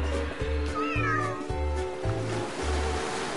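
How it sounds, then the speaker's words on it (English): Cats in the LittleBigPlanet 3 video game meow repeatedly over a rhythmic, pulsing game backdrop, the cries rising and falling in a steady loop. "Oh, we've got double cats."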